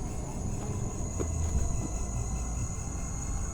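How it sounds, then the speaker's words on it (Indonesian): Crickets and cicadas chirp in a steady, continuous high drone over a low, rumbling night background at an abandoned housing complex in Bogor. "suasananya tenang, suara jangkrik, tonggeret ya"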